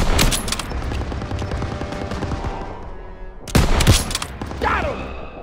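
Rapid machine-gun bursts and heavy gunfire crackle through a World War II battle in Call of Duty WW2, dense and loud, with a brief lull before another sharp burst of shots.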